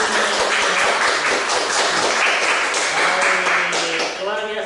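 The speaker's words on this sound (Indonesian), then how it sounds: "Kita kasih tepuk tangan dulu dong buat" An audience applauds children's storytelling at an Isra' Mi'raj celebration, a long dense roll of clapping with voices mixed in. Near the end a voice rises above it.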